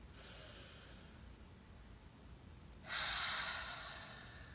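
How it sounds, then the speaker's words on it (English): Slow breath drawn in through the nose, then after a pause a louder, breathy exhale out through the mouth, close and soft, with no talking. "breathe in through your nose and out through your mouth"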